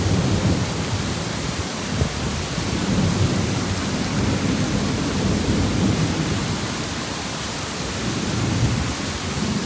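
A thunderstorm during a tornado in West Pensacola brings a heavy, unbroken roar of rain with low rolling thunder rumbling underneath, loud and constant throughout.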